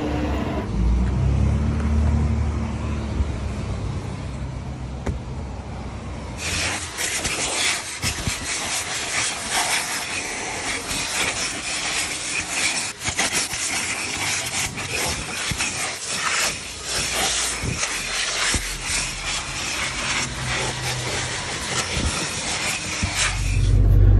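A car wash bay vacuum cleans out the interior of a Dodge Charger Daytona 392, a loud, continuous rushing hiss that surges stronger after a few seconds and keeps going, scraping and rubbing as the nozzle moves about.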